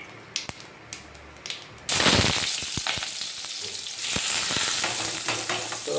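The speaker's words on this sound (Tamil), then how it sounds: "அதுக்கப்புறம் வெங்காயத்தை சேர்த்துக்கிறோம்." Chopped onions hit hot oil already sizzling with cumin seeds for a quail gravy, bursting into a loud, steady fry after a few soft clicks and taps, with stirring scrapes over the continuous sizzle.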